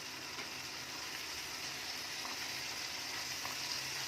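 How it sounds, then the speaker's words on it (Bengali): Spice paste and green chillies sautéing in an egg curry pan, an even, steady sizzle and hiss close by, soft and unbroken for several seconds. "ভালো করে মশলাগুলো একটু কাঁচা গন্ধটা যতক্ষণ না যাবে ততক্ষণ একটু ভালো করে কষে নেবো।"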